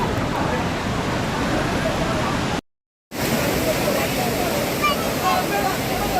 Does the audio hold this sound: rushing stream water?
yes